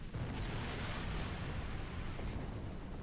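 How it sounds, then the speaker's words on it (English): A torpedo explosion in a space video game gives a continuous, heavy rumbling roar that holds steady for about three seconds without a break. "Fire the second torpedo!"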